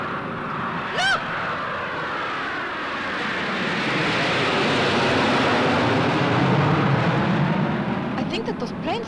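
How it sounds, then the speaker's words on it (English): Russian jet planes fly overhead with a broad, building roar that swells louder toward the end, alongside brief tonal sweeps and a short voice. "What are Russian jets doing here?"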